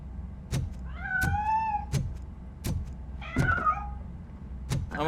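A cat meowing in the game RoboCop: Rogue City: two drawn-out, wavering meows stand out close and clear, set among regular heavy thumps and a low ambient hum.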